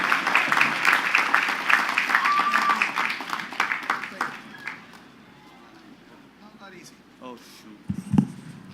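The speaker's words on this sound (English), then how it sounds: "So give them the biggest round of applause you'll ever do in your college career." Applause at a Queens College commencement rises from a crowd for the first few seconds over talk, then fades away, leaving quieter voices and a brief thump near the end.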